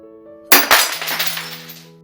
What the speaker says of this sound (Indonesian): Sekali lagi bunyi pecahan kaca bergema di dalam ruangan berukuran 5 kali 4 meter itu.